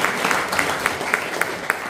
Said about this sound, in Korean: 박수로 맞이해주시면 고맙습니다.